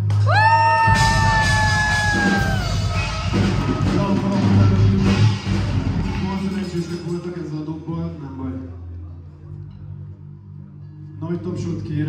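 Concert crowd at a metal gig in a Szeged café roaring, whooping and yelling loudly for the band, dense and close, with a sustained guitar chord ringing at the start before the noise fades and swells again.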